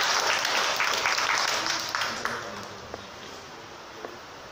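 A Tamil poetry recital audience at the Madurai Tamil Sangam claps in a broad, steady wash that gradually thins and fades, with a few louder individual claps standing out near the end.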